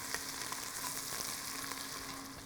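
Chopped onions sizzle in hot olive oil in a pot as they are stirred, making a steady, close hiss with small crackles.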